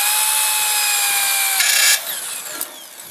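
A portable drill press bores into wood with a steady high-pitched whine that strains slightly, then stops abruptly, leaving a faint trailing hum.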